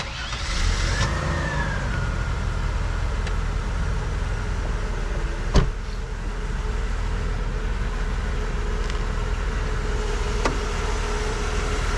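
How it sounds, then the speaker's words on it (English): A 1993 Mercedes-Benz 190E 2.6 engine runs at a steady idle, a smooth continuous hum heard close by, with one brief sharp knock partway through and no talking. "I'll show you how the motor runs."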